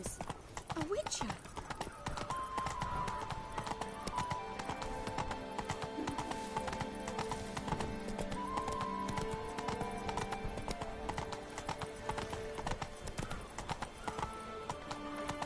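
Hooves of Roach, a horse in The Witcher video game, clop in a steady trotting rhythm throughout, with game music and voices in the background.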